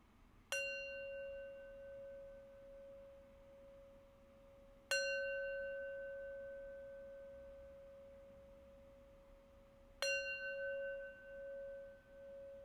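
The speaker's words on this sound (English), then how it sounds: "I'm going to close our practice with 3 rings of the bell" A meditation bell closing a mindfulness practice is struck three times, about five seconds apart, each strike a clear, pure ringing tone that decays slowly into near silence in a quiet room.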